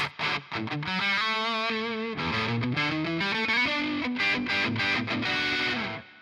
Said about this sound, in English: Let's engage some reverb.